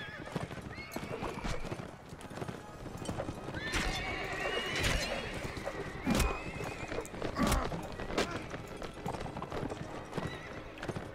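Horses in the medieval combat game Mount and Blade Warband, with busy, overlapping hoofbeats and several loud whinnies rising out of the clatter, and voices mixed in.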